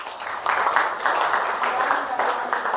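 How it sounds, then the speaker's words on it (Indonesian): Classmates in a school classroom applaud a presenting group, a steady patter of many hands clapping for about two seconds, with a voice talking over it. "Berikan aplaus untuk teman kalian."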